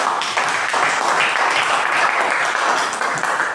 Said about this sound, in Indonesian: Ya, terima kasih buat rekan-rekan kelompok 2. Jadi tepuk tangan.